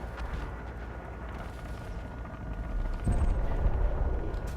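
A hostile ship blows up mid-dogfight in the space combat game Elite: Dangerous, a dense roaring blast that swells loud in the second half and holds steady without talk.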